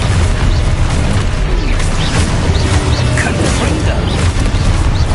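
The Expulso spell in Hogwarts Legacy goes off as a series of loud, dense booming blasts and crashes, one after another, with no pause in the noise.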